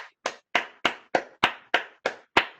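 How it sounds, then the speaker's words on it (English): One person claps alone in an office, about nine sharp, evenly spaced claps at a steady rhythm, close and clear, with silence between each. "please join me in a round of applause thanking her for her remarks"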